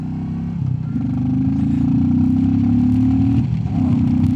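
A Royal Enfield Classic 350 motorcycle fitted with a FuelX Lite and DNA filter accelerates nearby, its loud engine note climbing steadily, then dropping briefly at a gear change before pulling up again.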